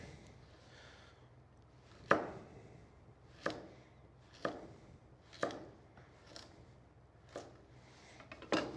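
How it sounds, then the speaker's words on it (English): Knife chopping carrots and scallions at an angle on a cutting board, about seven sharp, evenly spaced chops close by over a soft background hum, with no talking. "I'm cutting nice even, but at an angle"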